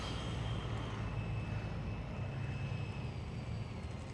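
An FMS Yak 130 V2 70mm electric ducted-fan RC jet taxis on the ground, its steady high-pitched whine and rushing air holding constant over a low rumble, close and continuous.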